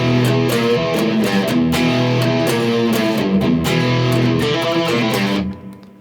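Distorted electric guitar plays the interlude line, a run of picked notes and open strings in quick rhythm, loud and alone, ringing out at the end.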